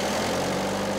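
A rare, one-of-a-kind old engine, restored with foundation funding, runs steadily with a loud, even drone and low rumble, close by and with no voices.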